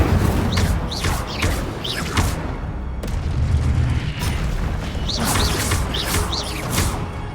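Incendio fire spell blasts cast again and again in Hogwarts Legacy, loud whooshing bursts and booms in steady succession over dense game noise, with no talk.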